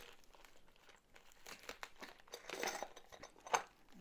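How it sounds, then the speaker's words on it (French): Packaging around silver investment coins crinkles and crumples as it is unwrapped, soft rustling that builds into louder tearing bursts near the end, close and fairly quiet. "Bien entendu, là, on est sur un déballage de pièces"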